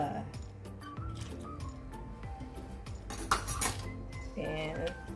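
Coconut macaroon cookie batter with vanilla and coconut flakes is stirred in a bowl, a spoon clinking and scraping against the sides in quick irregular strokes, close, with a voice talking over it.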